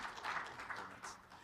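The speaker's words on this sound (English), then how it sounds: "I think that round of applause for Josephine" Applause from a conference audience at a European transport showcase session for a speaker, a soft, distant patter of many hands clapping steadily, faint and unbroken, with no clear speech over it.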